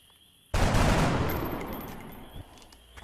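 Gunfire in XCOM: Enemy Within: a loud burst of shots erupts suddenly and rolls into a long decaying rumble, with a smaller crack near the end.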